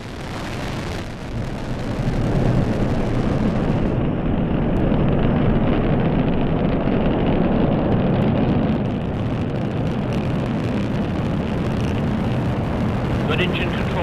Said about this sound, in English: And liftoff at dawn.